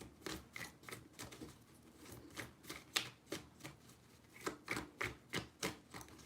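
Tarot cards being shuffled by hand make a quick series of crisp riffling bursts in uneven clusters, close up and fairly quiet, with brief pauses between groups.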